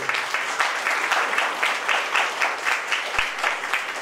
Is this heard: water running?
no